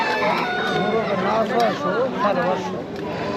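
Chickens and a rooster at a traditional rural haat, Goyhata Bazar in Nagarpur, Tangail, cluck and crow in wavering calls amid market bustle, loud and close, with people talking throughout.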